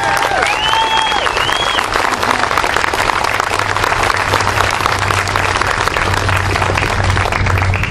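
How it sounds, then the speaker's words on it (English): An outdoor crowd at a public rally applauds loudly and steadily, a dense wash of clapping lasting several seconds with a brief whistle or cheer near the start. "Let's give Matt a big hand."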